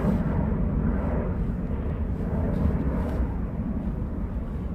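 Boeing 757 airliner taxiing at East Midlands Airport at night, a steady low engine rumble and roar heard from a distance, with no talking.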